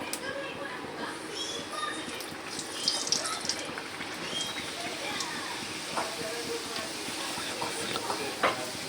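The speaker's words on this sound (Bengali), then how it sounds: "এবার আমরা তেলে লুচিটা ছেড়ে দিচ্ছি।" Luchi, puffy Bengali fried bread, dropped into hot oil, with a continuous bubbling sizzle heard close up beneath a person talking.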